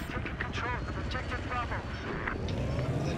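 A helicopter flies in the Battlefield 4 video game, its steady rotor and engine roar running throughout beneath battle noise, with voices talking over it.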